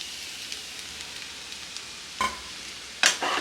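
Two eggs dropped into a pan of Maggi noodles, with a quiet background sizzle broken by two sharp splattering bursts as they hit the hot surface and are stirred.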